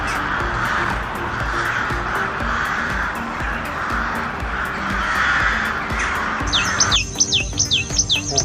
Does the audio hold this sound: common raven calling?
yes